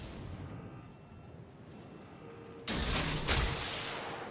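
Secondary guns firing in a World of Warships naval battle, with an enemy Ohio battleship shooting at a Kleber: quiet rumble, then a sudden loud booming volley and a second blast that slowly fades.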